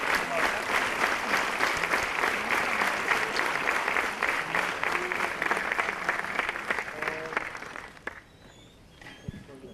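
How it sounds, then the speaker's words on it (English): Sustained applause from a large audience honouring Ratan Tata at a felicitation ceremony, dense steady clapping for about eight seconds before thinning out to scattered claps near the end. "can we have a huge round of applause for Shri Ratan Tata"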